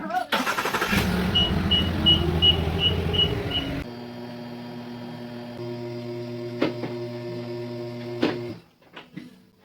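A Rotary SPO10 two-post car lift motor runs with a steady electric hum and faint clunks, following a noisy burst with voices at the start, then cuts off near the end.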